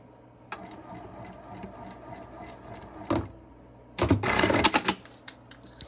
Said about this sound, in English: we're just gonna go ahead and sew this up.